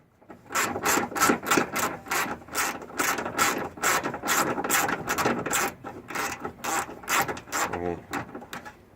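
A hand ratchet loosens bolts on the header panel of a 2003 Ford Ranger, giving a rapid, steady run of sharp metallic clicks in quick strokes throughout, close to the mic and with no talking.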